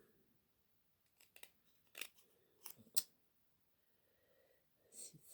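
Scissors snip through paper for a paper craft in several quiet, separate cuts spread across the clip, close by, with no one talking.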